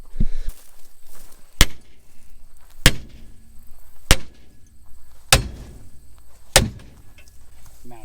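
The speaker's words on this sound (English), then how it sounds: "Now we're gonna beat this drum off of here with the 10-pound sledge." A 10-pound sledgehammer strikes a rusted brake drum on a 1966 Impala five times at a steady, evenly spaced pace, each blow a loud, sharp metallic bang ringing out close by.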